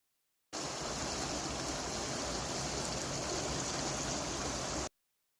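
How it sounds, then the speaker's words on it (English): Furada River water rushing steadily near Barcelos on the Portuguese Camino, a loud, continuous broadband flow that holds constant for about four seconds, then cuts off, with no voices. "this is the Furada River"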